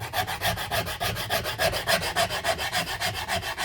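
Coarse side of a rasp shaping the wooden neck of a cigar box guitar, rhythmic back-and-forth scraping strokes repeating about every quarter second, close and steady, with no talking.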